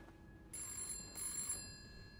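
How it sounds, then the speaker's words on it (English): Two bursts of an electronic telephone bell ring inside a video game about a new maid snooping in a house, each lasting about half a second, bright and tonal over a low steady ambient hum. "Now the phone's ringing."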